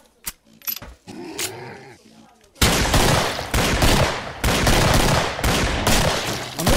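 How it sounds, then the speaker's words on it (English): A weapon magazine reload in Killing Floor opens with a few sharp metallic clicks and clacks. A dense, loud barrage of gunfire and chaotic combat noise follows and runs on steadily. "I'm reloading. Cover me."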